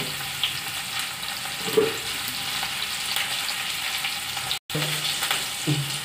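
An onion fries in hot oil in a pan with cinnamon and bay leaf while cooking a pepper lemon chicken, giving a steady close sizzle and crackle with a few brief stirring clatters and no talk.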